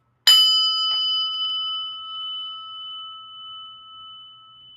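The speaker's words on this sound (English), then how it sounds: "a prayer bell. Just listen until it stops ringing." A single prayer bell is struck once, ringing out clear and close with a bright metallic tone, then sustaining a long, steady hum that slowly fades over several seconds in a quiet room.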